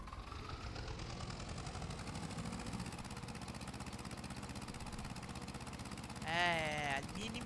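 An engine idles steadily and close by, a constant low rumbling drone with no change in pace; a short voice cuts in near the end.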